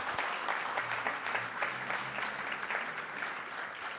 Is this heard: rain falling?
no